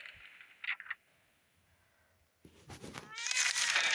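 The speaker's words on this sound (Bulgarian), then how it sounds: "Котарак! Ето го котарака." A cat meows in the video game 60 Seconds, giving two short, faint mews near the start over a quiet background, followed by louder, busier game sounds.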